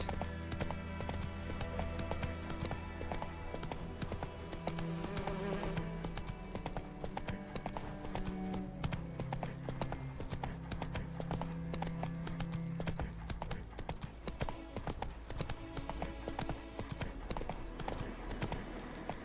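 Roach, a horse in The Witcher 3, gallops along with a steady, rhythmic clip-clop of hooves that runs throughout. Game music and ambience play underneath, and a faint whinny cuts in.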